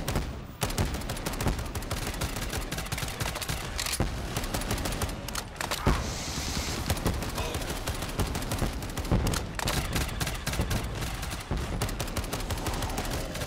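Burst-fire gun shooting in Black Ops 3 Zombies Gun Game, dense repeated gunfire cracks rattling on steadily over chaotic game noise, near and fairly loud for the whole stretch.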